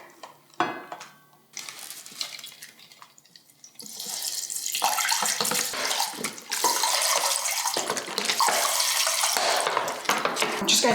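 Water is poured into a Christmas table arrangement, a loud close splashing, gurgling stream that starts after a few seconds of quiet handling clicks and continues steadily.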